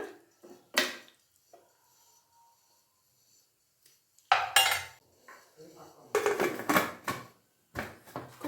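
A metal pressure cooker lid is closed over mushroom gravy in a home kitchen: several sharp close clanks and clattering scrapes separated by quiet gaps.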